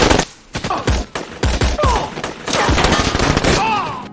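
Dense gunfire from a film battle scene between Navy SEALs and Taliban fighters, with rapid overlapping bursts and sharp cracks running almost without a break, loud and close, and a few faint voices mixed in.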